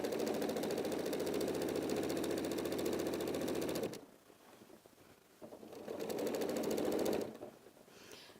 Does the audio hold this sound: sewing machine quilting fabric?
yes